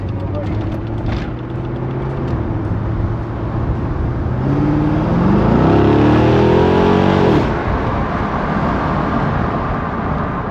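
A stock C5 Corvette accelerating hard from inside the cabin, the engine note climbing steadily in pitch to a loud peak before backing off, with people talking over it.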